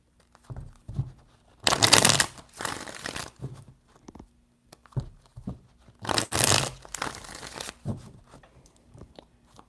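Tarot cards being shuffled by hand in two bursts of riffling and flicking, each lasting about a second and a half, with softer card taps and handling between them, close and clear with no talking.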